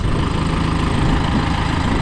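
A 130 horsepower Perkins diesel engine in a Hydrema haul truck runs at a steady idle, a loud, close, even rumble with constant vibration and no voices.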